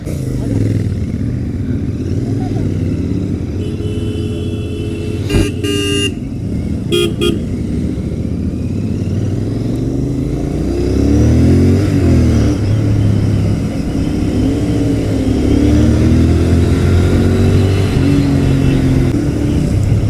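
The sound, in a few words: motorcycle engine riding on road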